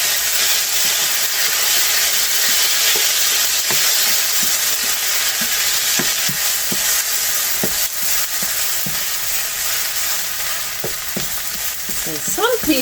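Food browns in a frying pan with a steady, loud sizzle and hiss throughout, broken by occasional scraping stirs and clinks near the end.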